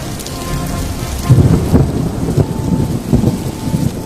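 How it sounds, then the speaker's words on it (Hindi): Heavy rain pours steadily with deep rumbles of thunder rolling through, loud and close, with no voices. "धीरे धीरे करके बारिश बहुत तेज हो जाती है"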